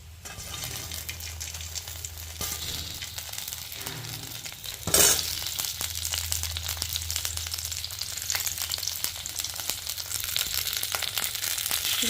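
Crackling sizzle of tomatoes frying in a pan for mint chutney, with stirring scrapes and a sudden louder burst midway as more goes in, then steady frying.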